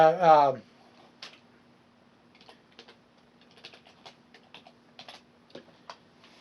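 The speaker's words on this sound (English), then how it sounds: "Let's type it in." Someone types on a computer keyboard, entering a search; a short burst of voice opens, then light, close, irregular key clicks follow over a faint steady hum.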